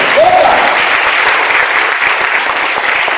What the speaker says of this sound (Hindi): एक बार अपने लिए जोरदार तालियां हो जाए।